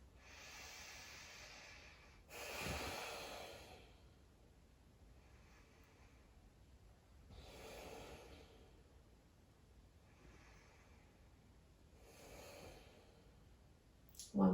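Slow yoga breathing, with about five long audible inhales and exhales spaced several seconds apart, soft and breathy, close to the listener, with quiet pauses between breaths.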